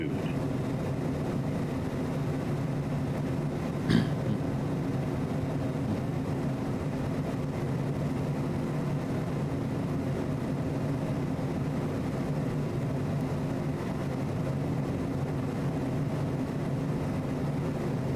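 Steady cockpit noise inside a Cessna Citation CJ4 business jet in flight, a constant low engine and airflow drone with an even hum, broken by one brief click partway through.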